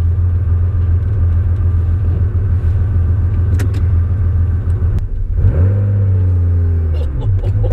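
A Porsche 911 restomod engine drones loudly and steadily at low pitch while driving, then revs up and settles again as the car pulls away from a junction, with someone talking over it.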